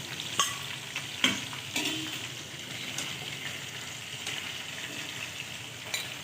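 Chicken pieces frying in a generous amount of oil until golden, with a steady background sizzle broken by several sharp scraping and clinking strikes as the pieces are stirred and lifted out.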